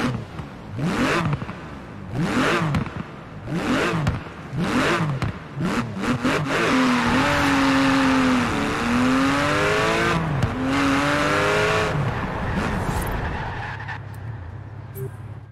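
A car engine in Forza Horizon 4 revving hard, several sharp rising blips followed by a long sustained wail that climbs and falls, loud and close throughout.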